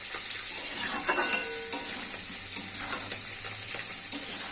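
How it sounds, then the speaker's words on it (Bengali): Spice paste of chili, turmeric, cumin and coriander sizzles steadily in a pan while being stirred for a spicy pomfret fish curry, with soft scraping and occasional clinks of the utensil over a constant frying hiss. "এবার আমি মশলাটাকে কষিয়ে নেবো ভালো করে।"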